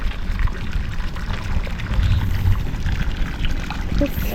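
A pump pours a steady stream of fresh water out of a sailboat, a constant splashing and trickling wash that stays alone and fairly loud.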